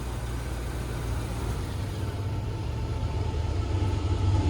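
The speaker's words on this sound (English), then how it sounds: "So you hear the train in the background." A train passes in the background, making a steady low rumble and rolling noise that builds slightly toward the end, heard alone without talk.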